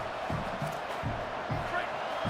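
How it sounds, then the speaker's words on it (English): Stadium crowd roaring in College Football 27, a steady full-throated din with bursts of cheering, low rhythmic thumps and whoops layered over the constant wash of noise. "This crowd, full throat, spreading the eardrums and letting them know it's going to be a long day."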